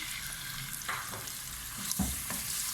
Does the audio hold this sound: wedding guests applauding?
no